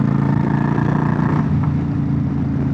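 A motorcycle fitted with aftermarket Vance and Hines exhaust pipes, on a UK ride, rumbles steadily and loudly in a deep, continuous drone with no pauses.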